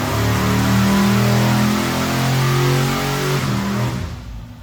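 A 1200-horsepower small-block Chevy V8 revs hard on a dyno, a loud sustained roar with steady harmonics that holds for several seconds, then begins to drop away at the end.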